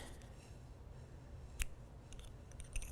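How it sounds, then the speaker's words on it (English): Scissors snip through crochet yarn once, a short crisp cut close by, followed by a few faint clicks and rustles in an otherwise quiet room. "we are going to cut our yarn"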